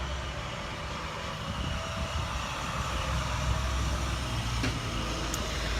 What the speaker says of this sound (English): a big noisy truck is coming by